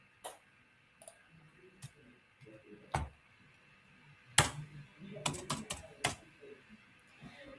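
A command typed on a computer keyboard: irregular close key clicks, sparse at first and then a quicker burst, with quiet pauses between.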